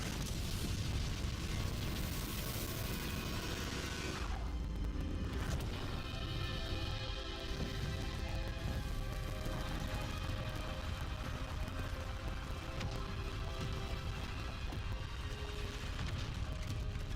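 An Incendio fire spell cast in the video game Hogwarts Legacy bursts with a loud, dense rush that settles into a sustained roaring, crackling wash lasting many seconds.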